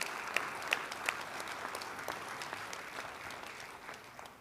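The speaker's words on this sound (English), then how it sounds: "But can you give these guys just a round of applause?" Audience applause at a high school Hall of Fame induction ceremony, a steady wash of many hands clapping in a large room, with a few sharper claps standing out early before the sound slowly thins.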